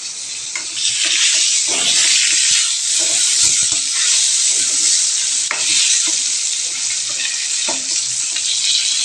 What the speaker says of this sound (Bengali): দেখো পটলগুলো যখন একটু একটু ভাজা ভাজা হয়ে আসবে